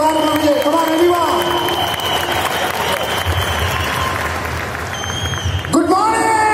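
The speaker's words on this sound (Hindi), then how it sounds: "मैं चाहूंगा एक बार जोरदार तालियां बजाएं" Loud applause and cheering from a large crowd at an award function in an indoor stadium, steady and dense throughout, with a burst of whistles and shouts near the end.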